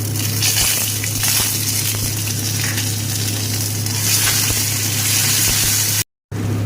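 A ground paste of ginger and cumin sizzles hard in hot oil alongside dried chillies and bay leaf, a loud close crackle with a steady hum under it, broken by a sudden short dropout near the end.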